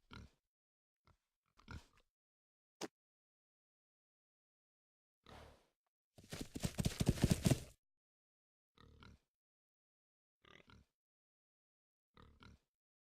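Scattered short pig grunts and oinks in the video game RuneScape, with silent gaps between them, plus one longer, louder squealing burst in the middle.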